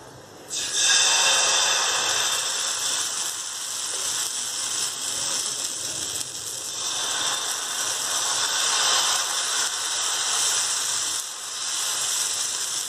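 Instant uttapam batter made from a homemade dry premix, poured onto a well-heated pan, gives a steady broadband sizzle and hiss that starts abruptly and carries on evenly, close up, with no talk.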